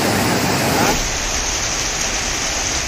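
Heavy, continuous rain pours down in a steady, dense hiss, loud and close throughout, during a prolonged downpour near Bengaluru lakes and reservoirs.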